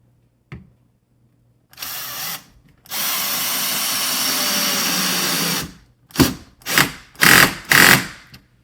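Cordless drill driving a longer screw into a door hinge, with a short whir, then a sustained run of about three seconds, then several quick bursts, close and loud with quiet gaps between.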